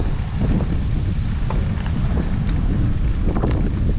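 Strong, steady wind roars and buffets the microphone during a bike ride along the Courtney Campbell Causeway, a dense continuous rush with low rumble that stays loud throughout, with no talking.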